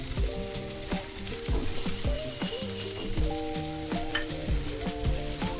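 Punti fish fry in a pan with spices, a close, steady sizzle and crackle broken by bursts of spattering and scraping stirs.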